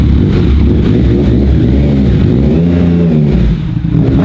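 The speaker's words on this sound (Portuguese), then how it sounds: "O barulho da moto tá alto, né?" A Yamaha MT-09 motorcycle engine revs loudly and steadily up close while riding with a passenger, its deep roar rising and falling in pitch throughout.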